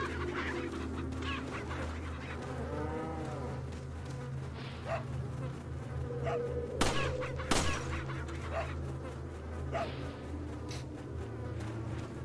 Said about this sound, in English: Eggs are why you do not kill the chickens.